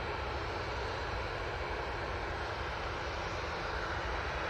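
A steady, loud broadband roar from an easyJet jet airliner lining up on the runway at Manchester Airport, holding constant and close throughout with no speech.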